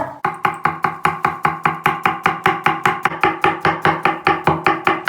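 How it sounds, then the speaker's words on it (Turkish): A knife finely chops an onion rapidly and evenly on a cutting board, about five crisp strokes per second, close and loud, with no talking. "Soğanımızı da çok ince doğrayacağız."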